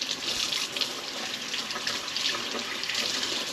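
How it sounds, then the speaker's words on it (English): Running tap water splashes steadily over a CPAP mask cushion being rinsed of soap at a sink, a continuous close hiss of flowing water with no talking. "We'll rinse out our mask cushion. Get all the soap off of here."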